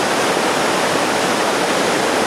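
A waterfall on the Falling Waters Trail, a mountain hiking path, roars with a steady, dense rush of falling water, loud and close, with no other sounds.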